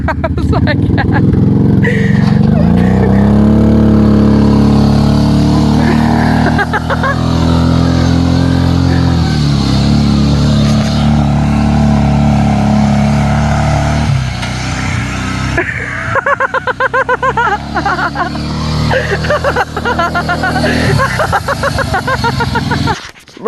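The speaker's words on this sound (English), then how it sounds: "I got four-wheel drive. It sounds like that." Four-wheel-drive ATV engine revving loudly and continuously, pitch rising and falling with throttle, close up and dominant with people talking over it.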